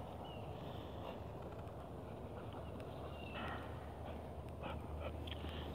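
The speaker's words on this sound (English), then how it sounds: "New puppy on the pack run today." Outdoors on a morning dog pack run with a new puppy, faint dog whimpers and small yips sit under a steady wash of wind and ambient noise that persists throughout.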